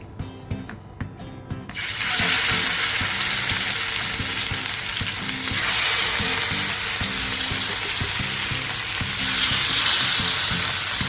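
Fish shallow-frying in a hot pan, Kerala style, sets off a loud, dense sizzle that surges after a few quiet taps and then holds strong and steady, with no talking.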